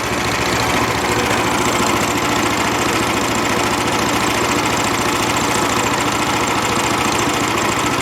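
A DC 1260 machine runs steadily on newly fitted drive belts, a loud continuous mechanical drone with a dense rhythmic churn from the rolling drum, unbroken for the whole stretch and with no voices.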